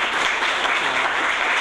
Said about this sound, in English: But everybody give yourself a round of applause